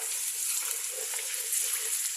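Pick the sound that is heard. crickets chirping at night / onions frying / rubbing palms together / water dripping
onions frying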